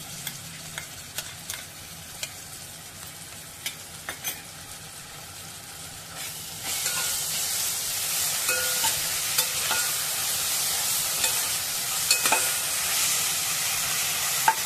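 Onion with ginger-garlic paste sautés in a pan, first a quiet hiss with occasional spoon taps, then a loud, steady frying sizzle that fills the remainder, close up, with no voices.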